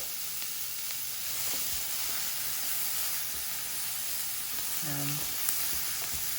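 Carrots sizzle and fry steadily in a hot pan, a continuous broadband hiss at moderate level with a brief stir or clatter near the end.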